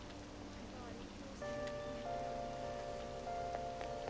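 Rain falls steadily in the video game Persona 5 Royal, a constant soft hiss under game tones and musical notes that grow fuller partway through, with no clear speech.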